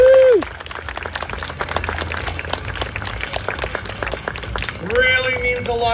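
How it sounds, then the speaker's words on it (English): A crowd at an outdoor amphitheater Canada Day performance claps for young children who just danced, brisk scattered applause that begins after a whoop and swells again near the end as a voice speaks over it. "Can we give them a round of applause for dancing this?"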